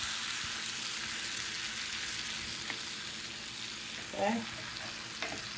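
Ground turkey and vegetables sizzle quietly in a pan while being stirred, a soft continuous frying hiss with a few faint scrapes and clicks; a voice speaks briefly.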